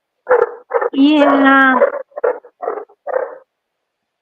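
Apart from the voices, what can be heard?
Great Pyrenees puppy barking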